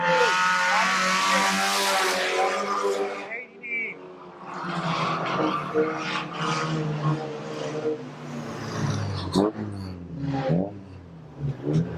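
Stock car racing: engines rise and fall as cars pass, with repeated tire squeals and skids, while a commentator talks loudly over the track noise.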